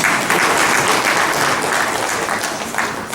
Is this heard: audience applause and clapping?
yes